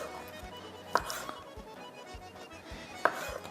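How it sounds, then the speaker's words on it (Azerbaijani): Chicken breast being cut into large cubes with a knife on a cutting board: two sharp, isolated chops about two seconds apart, close and moderately loud over a quiet kitchen background. "Bu cür iri-iri kub şəklində döş ətini doğrayaq."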